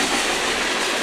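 Norfolk Southern freight train led by GE locomotives, two C3-9Ws and a 2012 ES44AC, rolling past close by with a loud, steady broadband rumble and clickety-clack of wheels, no talk.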